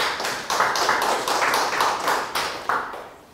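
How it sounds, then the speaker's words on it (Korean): A church congregation applauding during a Sunday worship service, a dense, steady wash of many hands clapping at once in a roomy space, swelling in several rhythmic surges before tapering off. "하나님께 영광의 박수를"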